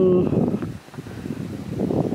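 Strong wind buffets a microphone on a hilltop overlooking Siquijor, a steady low roar that dips briefly and swells again, with no clear voice over it.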